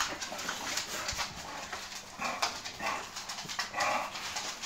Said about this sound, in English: these dogs know not to go in the kitchen